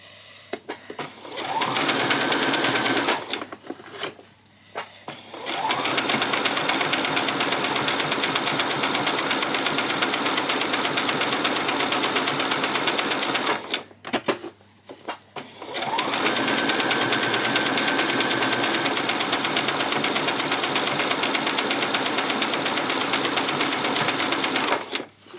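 A sewing machine runs close by, back stitching a peasant skirt in two long steady bursts with short pauses between, its motor hum and needle chatter loud and continuous.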